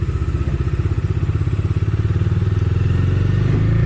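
Close Bajaj Dominar 250 BS6 motorcycle engine chugging in first gear, its steady rapid pulse building slightly in the last second as the bike pulls away.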